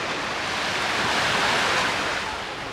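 Waves at Banana Beach in Thailand wash in as a steady broadband rush of surf, continuous and moderately loud with no voices.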